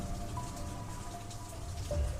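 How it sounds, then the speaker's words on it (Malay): Heavy rain falls steadily on a wooden house, a dense, even wash of patter with no pauses, moderately loud and close. "Hujan tidak menunjukkan tanda-tanda akan berhenti."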